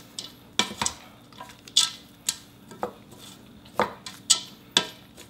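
Couscous salad with cucumbers gets stirred in a bowl, giving intermittent clinks and scrapes of a utensil against the dish in irregular bursts at close range, with a faint background hum and no talking.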